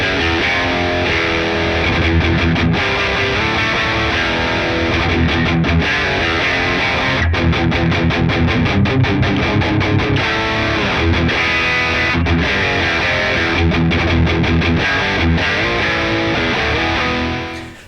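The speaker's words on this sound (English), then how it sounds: "So here we have a JCM 800 with a tube screamer in front of it." Heavily distorted Harley Benton DC-Junior electric guitar with P90 pickup, played loud through a Tube Screamer into a Marshall JCM 800 tube amp, with a crunchy high-gain tone, chugging riffs and brief choppy stops, filling the whole stretch without any voice.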